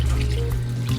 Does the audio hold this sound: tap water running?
yes